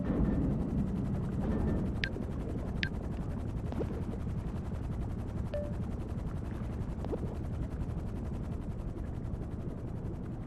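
Helicopter in the video game GTA V, a steady rotor drone holding throughout, with a few sharp short electronic blips over it and no speech.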